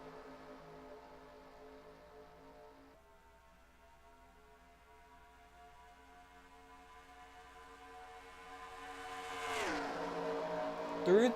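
ARCA stock cars in NASCAR Racing 2003 roll toward the green flag with a steady engine drone, then the field surges, and the engines climb into a loud rising roar as they accelerate near the end.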